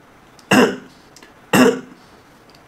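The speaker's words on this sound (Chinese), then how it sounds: "你看我放出这种咳咳的声音呢" Two deliberate, close-miked coughs into the microphone of a roughly 30-year-old retro game console, sharp and loud, about a second apart with quiet between them and no talking.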